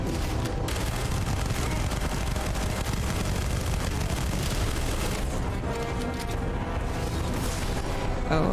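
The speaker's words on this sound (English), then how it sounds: "Explosions!" Explosions and booming blasts roll through a chaotic Starfield firefight, dense, loud and continuous, with gunfire-like bursts woven into the sustained roar.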